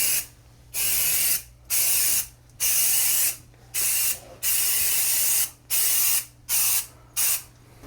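Bed bug treatment spray hisses around a mattress in about nine short, sharp bursts of even length, each separated by a brief silence, loud and close.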